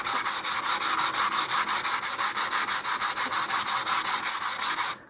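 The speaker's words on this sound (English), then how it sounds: "I'm going to start with some 100 grit sandpaper and just give it a very light sanding with this." Light sanding of an Estes Big Bertha model rocket with 100 grit sandpaper: fast, regular back-and-forth rasping strokes, close and loud, about five per second with no talk.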